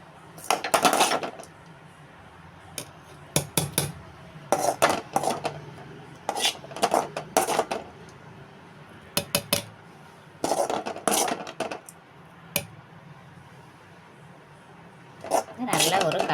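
Spoon stirring cooked carrot into dosa batter in a bowl, irregular bursts of clinking and scraping against the rim separated by quiet pauses.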